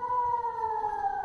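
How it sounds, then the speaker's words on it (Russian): An air raid siren sounds during shelling in Israel, a sustained wailing tone with harmonics that slowly falls in pitch, steady and moderately distant. "Вот звучит сейчас сирена, и мы направляемся в безопасное место"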